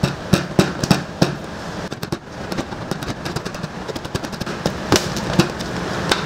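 A knife handle pounds conch meat on a Caribbean beach, a run of sharp, irregular thuds and knocks, loud and close, with no voices.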